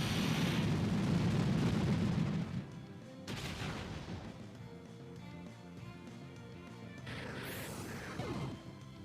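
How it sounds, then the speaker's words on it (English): Electrode using Explosion in the Pokémon Rising Ruby video game: a loud, dense crashing blast that rumbles for a couple of seconds, then a sharp crack, decaying rumble and another burst near the end. "Explosion!"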